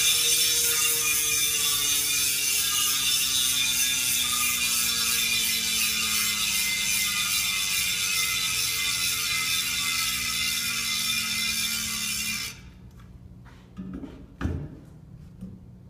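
A Mavic 360 Instant Drive bicycle hub with star ratchet internals clicks in a fast, even, close-up buzz as the wheel freewheels. The ticking slows slightly over about twelve seconds, then stops, followed by a few faint handling knocks.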